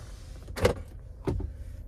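Power sunshade on the sunroof of a 2023 Chevrolet Blazer Premier whirring briefly twice, two short quiet motor bursts with silence between them inside the cabin.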